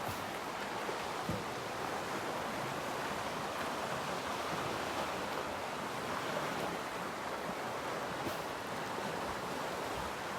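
Waves washing steadily onto the shore of the Sea of Galilee at sunrise, a continuous broadband surf wash with gentle swells, no voices.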